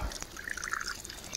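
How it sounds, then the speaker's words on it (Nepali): Water runs steadily from an elephant-shaped stone spout near Rani Mahal, Nepal, a close, thin trickling and splashing with no voices. "यहाँ चाहिँ हामी ढुङ्गा हात्ती ढुङ्गामा आएर पानी खाँदैछौँ"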